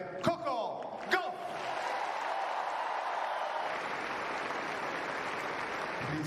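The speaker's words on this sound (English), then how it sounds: "Signori e signori, un grande applauso per Coco Gauff!" After a tennis final in Rome, the crowd applauds Coco Gauff with a steady, broad wash of clapping that swells after two loud thumps at the start and holds evenly, heard somewhat distantly.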